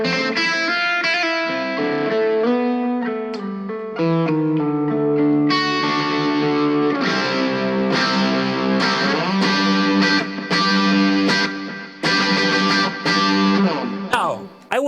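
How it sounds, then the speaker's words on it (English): Electric guitar through a BOSS Katana Mini X amp, playing chords and single notes drenched in echoing delay and spacious reverb, notes trailing and overlapping throughout. "And finally here we have the delay and reverb together."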